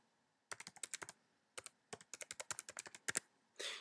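Rapid bursts of typing on a computer keyboard while entering a name, email address and Gmail password, with clustered keystrokes, short pauses and a final louder flurry, close and clear without talk.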